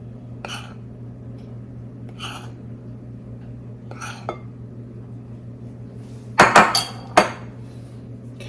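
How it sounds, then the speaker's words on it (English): A spatula works around a bowl of cream cheese pound cake batter, making soft periodic scrapes followed by a few sharper clinks against the bowl over a low steady hum. "we're going to take this spatula and wipe down our sides"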